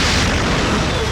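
A loud, dense burst of gunfire striking a helicopter in a Hindi film, crackle and booming impact noise, harsh and continuous for about a second.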